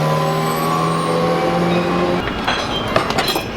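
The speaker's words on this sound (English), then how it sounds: "a 430 Scuderia with gold wheels is flying on by" A Ferrari 430 Scuderia supercar with gold wheels goes by, a steady engine drone that fades into rougher, mixed road noise toward the end.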